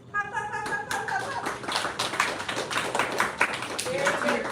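A class claps and taps together to congratulate two new Black Sash leaders at an evening martial arts class, a dense run of close, busy claps continuing under an instructor's talking.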